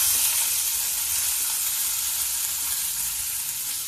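Chopped onion hits hot oil with cumin seeds in a pan, a steady bright sizzle and crackle of frying heard up close with no talking.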